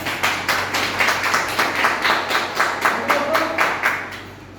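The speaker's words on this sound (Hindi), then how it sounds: "कम सी लोगों ने जोरदार ताली बजाया" A crowd at a business plan seminar claps in a strong, rhythmic, unison beat, loud and close, holding a steady pulse before easing off at the end.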